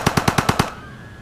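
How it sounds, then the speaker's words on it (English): Gatling gun in Civilization 5 firing a fast burst of six evenly spaced, loud shots, followed by a brief ringing tail as the volley ends. "This Gatling gun is a freaking amazing."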